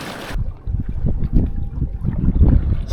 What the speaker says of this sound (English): I think that is the first and only time this little engine is going to see 6 knots.